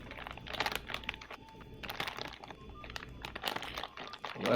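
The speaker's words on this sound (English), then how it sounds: "I want to know who's crinkling a bag" A bag crinkles in close, irregular rustling bursts as grapes are taken out of a satchel, with faint tonal background sounds during the middle.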